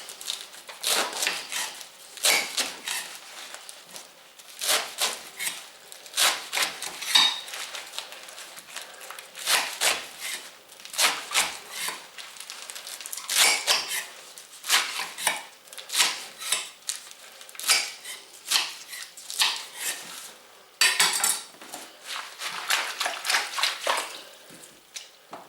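A knife chops spinach on a kitchen cutting board in quick, irregular bursts of sharp taps. Brief pauses separate the bursts, and the sound is fairly close and moderately quiet with no voices.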